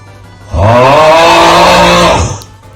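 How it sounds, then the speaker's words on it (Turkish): One loud, rough snore, a deep rattling breath lasting about two seconds, close by with quiet before and after. "Bu nasıl horlama arkadaş?"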